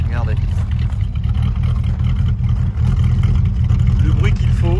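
A 1966 Ford Mustang convertible idles with a steady, close engine rumble, running smoothly and evenly throughout while someone talks over it.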